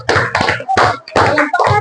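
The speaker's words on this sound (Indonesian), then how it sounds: "Oke, tepuk tangan kepada anak kami." An elementary school class claps together for a pupil in short, rhythmic bursts, with children's voices mixed in among the claps.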